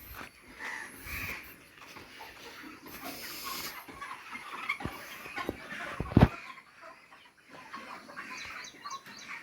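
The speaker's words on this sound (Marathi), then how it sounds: "इथे कोंबड्या आहेत" Many chickens clucking and squawking together in a large, busy, echoing poultry farm shed in Khed, with a loud thump partway through and no talking.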